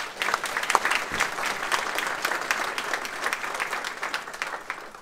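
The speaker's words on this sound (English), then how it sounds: "Round of applause for her" A crowd applauds at a memorial dedication ceremony, steady and fairly loud clapping from many hands that continues throughout without a break.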